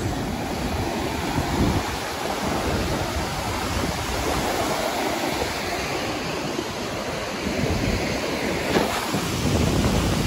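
Ocean surf rolls continuously onto Piuca beach near Maceió, Brazil, as a loud, unbroken wash of waves, with heavy wind buffeting the microphone throughout and no voices.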